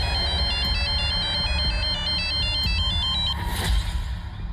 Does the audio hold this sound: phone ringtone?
yes